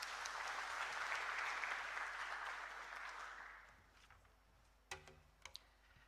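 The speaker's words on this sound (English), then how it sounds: "A warm round of applause." An audience at a Huawei job fair at a Kenyan university applauds a speaker, giving a broad, fairly faint wash of clapping that fades away after a few seconds, followed by a few isolated taps.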